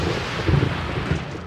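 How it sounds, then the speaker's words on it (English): A thunderstorm over a city rolls in as a dense, steady low rumble with a slight swell midway, loud and broad, with no voices. "a massive storm hits the city"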